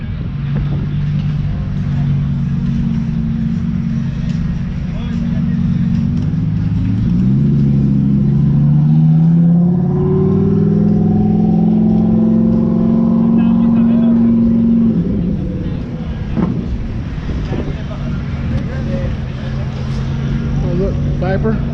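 Lamborghini supercars drive past at a TX2K26 car event, one engine roaring up loud and close in a long rising-and-falling sweep before it fades back into the constant rumble of other traffic.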